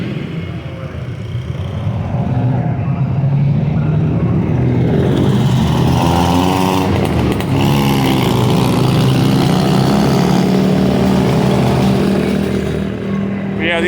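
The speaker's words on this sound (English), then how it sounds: "It's like that garbage truck that went by." A garbage truck rumbles past on a narrow Philippine town street, its engine growling loud and close and then fading, with someone talking over it throughout.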